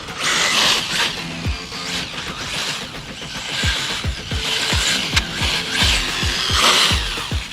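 A Traxxas 4-Tec RC car on 4S power with worn foam tyres drives hard, giving a continuous whining, ratcheting mechanical drivetrain noise with rhythmic clicking bursts and surges of high-pitched hiss, fairly close and loud with no talking.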